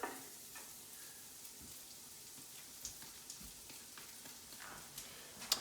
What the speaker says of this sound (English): So 3 cloves of garlic into the butter.